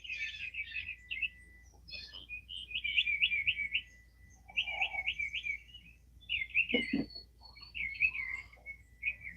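Birds chirp outside at dawn in quick repeated trilling phrases, fairly close and clear against a quiet background, with a brief low thud partway through.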